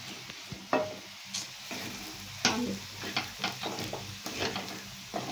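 Grated coconut, garlic, salt and chili being stir-fried on low heat in a pan, with a soft steady sizzle broken by repeated scraping strokes of a spatula, close by and fairly quiet.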